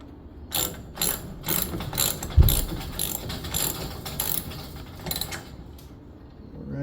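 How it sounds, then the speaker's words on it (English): A ratchet tightens a garage door cable in a series of close, rapid clicking strokes with brief pauses between them, plus a single louder knock partway through. "get your ratchet."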